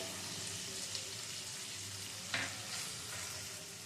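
Ground tomato and Kashmiri chili powder frying in a pan, a soft continuous sizzle with an occasional spoon clink and one brief louder scrape in the middle, no talk.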